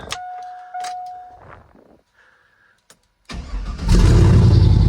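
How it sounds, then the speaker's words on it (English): A stock car engine with open headers cranks briefly and fires, catching at the end into a loud, rough burst that rumbles on. Before it, quiet clicks and faint whirring come from inside the car. "Let's just do a fast crank up"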